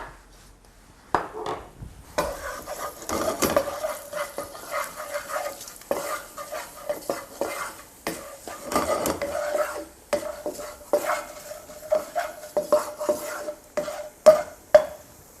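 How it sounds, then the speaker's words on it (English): Cumin and coriander seeds frying in a pan with a pinch of asafoetida, giving a soft sizzle beneath repeated clinks and scrapes of a utensil stirring against the pan, no talking. "So the cumin and coriander seeds in first."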